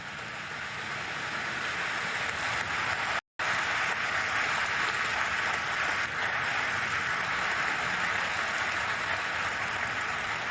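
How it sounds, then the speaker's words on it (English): A large outdoor crowd gathered outside Westminster Abbey claps steadily, a dense, continuous rattle of applause from many hands that carries on for about ten seconds with only a brief break. "I didn't realize it was people clapping outside."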